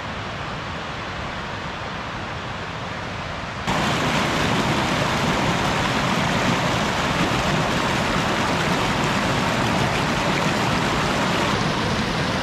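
A river fed by a waterfall on the Four Pass Loop backcountry trail flows with a steady broadband rush that jumps noticeably louder after about four seconds, then holds constant and close.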